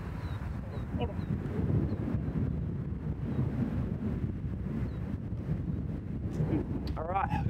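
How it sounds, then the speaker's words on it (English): Strong wind buffets the microphone on a golf course, a steady low roar running the whole time with faint talk underneath. "The wind is a bit high."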